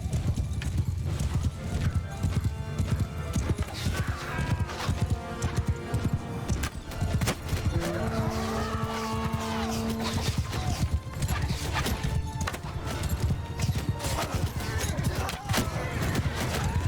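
Horse hooves clip-clop steadily through a chaotic Mount & Blade II: Bannerlord battle, with a horse whinnying partway through amid constant mid-level din and scattered clashes.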